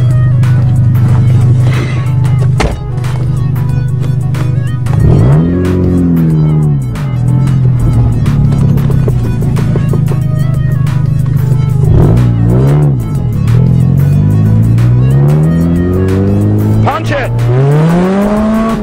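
A Mazda car engine revs hard and accelerates, its loud, close whine repeatedly swooping up and down in pitch with a steady drone underneath.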